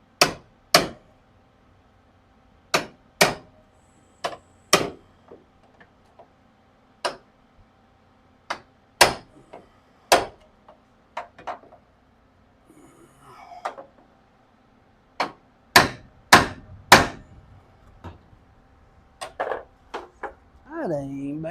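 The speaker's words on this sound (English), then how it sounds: "just to tap with that hammer." Hammer tapping on sheet metal while repairing rust in the bed of a short-bed Chevrolet C10 truck: sharp, close metallic strikes in irregular single taps and quick pairs, with brief quiet gaps between bursts.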